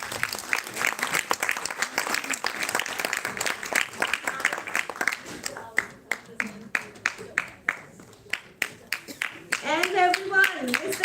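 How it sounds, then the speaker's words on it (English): An audience at a live women's event in Chandigarh gives a round of applause, dense clapping that thins into distinct individual claps, with a speaker's voice over it before and after. "Guys, a big round of applause."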